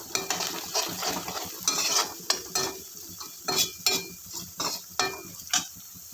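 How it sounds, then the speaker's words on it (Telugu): Onions frying in a pan for a flat bean curry, with a steady sizzle under repeated scraping and stirring of a utensil against the pan, nearby and fairly loud, no voices. "ఆనియన్స్ బాగా brown colour, light brown colour వచ్చింది దాకా వేయించుకొని"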